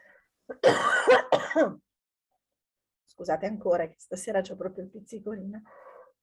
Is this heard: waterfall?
no